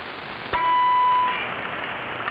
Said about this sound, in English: trying to get Bozo Control to honk the proboscis